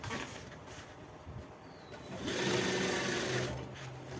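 A sewing machine runs while stitching a nonwoven bag, a close, continuous mechanical whir that grows louder midway before easing, with faint speech in the background.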